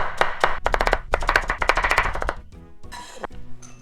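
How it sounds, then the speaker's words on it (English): A knife chops a carrot into thin slices on a board for a Japanese bento lunch, a quick run of close, crisp cuts that then stops, followed by a few lighter clinks and handling noises. "I'm going to lay it flat like this and cut them off from the end."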